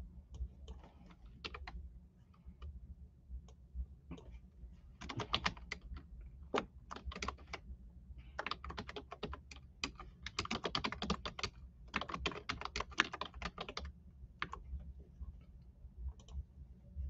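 Someone types a caption on a computer keyboard during a trading-card break stream, producing close, uneven bursts of key clicks with brief pauses between them and no talking.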